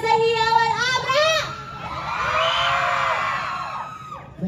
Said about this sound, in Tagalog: Isang pinakamalakas na hiyawan, Abra!